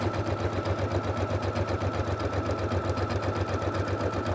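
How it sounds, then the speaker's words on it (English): A sewing machine fitted with a walking foot stitches through a quilt, running in a steady, even mechanical hum with a fast regular needle rhythm throughout, close and alone. "And as you can see, the needle's just going back and forth."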